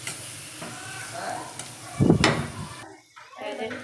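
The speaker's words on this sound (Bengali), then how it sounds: "চিংড়ি মাছটি বাজিয়ে নিলাম" Shrimp fry in a pan with a close, crackling sizzle, broken by a loud stirring scrape in the middle and a brief quieter stretch before the sizzle returns.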